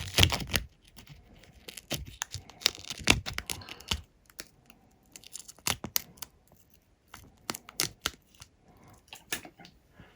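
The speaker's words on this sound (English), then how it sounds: "Again, crap scissors do not help." Sharp snipping and crunching of poor-quality scissors cutting through material in irregular bursts, close by, with quiet pauses between cuts.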